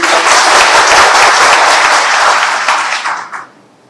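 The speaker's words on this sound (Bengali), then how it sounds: "আসিফ নজরুলের জন্য আমরা একটা জোরে হাত তালি দিয়ে" A crowd claps loudly in sustained applause at an airport inauguration event, a dense wash of hands that holds steady for about three seconds and then thins and fades out.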